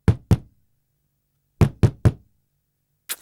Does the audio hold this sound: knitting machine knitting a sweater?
no